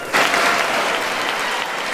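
Applause for the president at the State of the Union, a dense, loud burst of clapping from a large chamber crowd that starts abruptly and holds steady.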